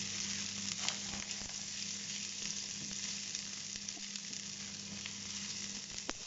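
Onions sautéing inside a 4.5-litre, 1500-watt Smartfryer air fryer from Action, cooking for a ratatouille: a steady, close, even sizzle and crackle runs throughout with no talking.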